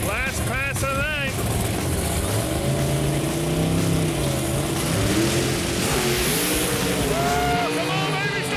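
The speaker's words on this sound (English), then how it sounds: "It's got a John Case motor. It makes power. Here we go, folks. Last pass of the night." Engine of a 1983 Chevy S10 drag truck with a John Case motor on its last pass of the night, a loud continuous roar climbing through rising revs as someone talks excitedly over it.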